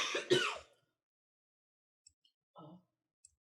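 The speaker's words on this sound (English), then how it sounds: "my throat is irritated and that's why I'm coughing" A single rough throat clearing from a person with an irritated throat, loud and close at the start, followed by silence with a couple of faint clicks and a short soft murmur.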